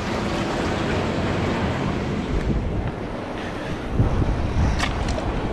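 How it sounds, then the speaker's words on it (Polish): Garden jacuzzi spa running with its pumps switched on, steady broadband rush of churning, circulating water close by with a constant hiss throughout, no voices. "Uruchamiam, niech się ta cała woda przemiesza."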